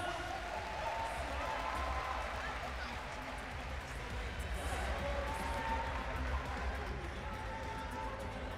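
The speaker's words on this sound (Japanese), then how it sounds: "見事なノックアウトを決めた朝倉海選手に盛大な拍手をお願いします" A large crowd at the RIZIN.42 MMA event applauds Kai Asakura's knockout with steady, broad, even clapping and crowd noise while an announcer talks over it.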